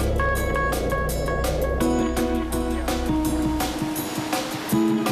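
Ocean surf rolls in at Gisborne during a longboard surfing contest, a steady washing roar of waves heard beneath prominent tonal music throughout.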